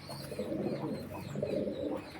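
Mojini-line pigeons from forty-year-old Trichy bloodlines coo in low, throaty, repeated rolls, two close bursts swelling one after another with no talk over them.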